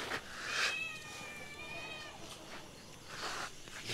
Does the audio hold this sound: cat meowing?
yes